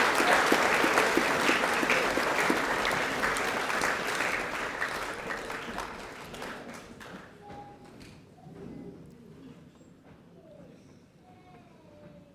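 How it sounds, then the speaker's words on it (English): Applause from an audience at a high school co-curricular prize giving, steady dense clapping that gradually thins and fades toward the end, with a few scattered claps lingering. "Round of applause for our Central Bay champions."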